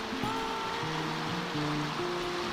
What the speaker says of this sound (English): Sitting here on a rock next to the river.